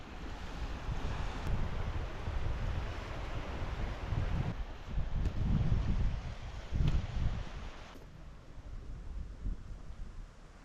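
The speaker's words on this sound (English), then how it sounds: "it is super windy" Strong wind of about 30 miles an hour in the Arctic Circle buffets the microphone in heavy rumbling gusts, rising and falling, with a faint wash like surf in the background.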